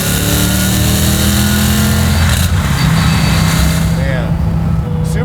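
Loud, close V8 of a 1967 Chevy Camaro restomod with a 755 hp LT5 engine revving hard through the gears, a steady droning roar with brief pops between shifts, people talking over the engine.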